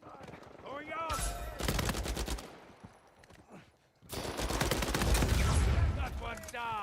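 Video game gunfire in two loud bursts of rapid automatic shots, a brief lull between them, with a person talking over the fire.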